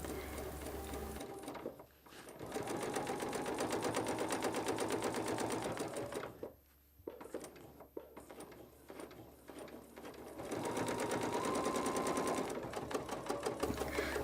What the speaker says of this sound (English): I am quilting 3/4 inch spaced parallel lines using the 1/2